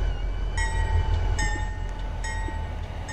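A B40 locomotive engine runs and rolls along the rails, with a steady low rumble, a sustained horn-like tone and repeated bright metallic squeals as it moves. No one speaks.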